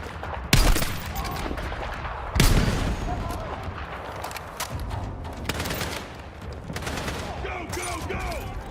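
Rapid gunfire and bursts of shots in a combat scene, with two loud close reports early on and then continuous crackling fire, heavy and dense, under shouting voices.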